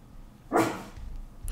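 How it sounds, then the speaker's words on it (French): A dog barks at its own reflection in a mirror indoors, a single loud, close bark lasting a fraction of a second, followed by low room noise. "il se regarde à la glace et il s'aboie dessus."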